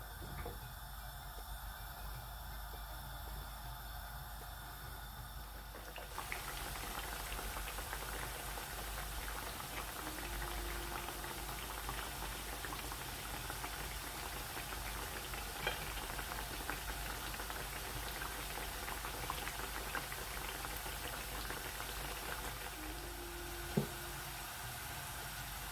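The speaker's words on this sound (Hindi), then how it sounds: "कुकिंग ऑयल गर्म हो गया है, तो इसमें हम एक एक करके इस तरह से ये डालते जाएंगे इसके अंदर" Chicken cheesy pizza pockets deep-fry in hot cooking oil, producing a soft, continuous bubbling hiss with a few faint pops, close and without voices.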